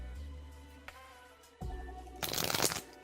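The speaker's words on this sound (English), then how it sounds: "shuffling now for Ray" Close, brief crackling riffle of tarot cards being shuffled near the end, following a low steady hum and faint background tones.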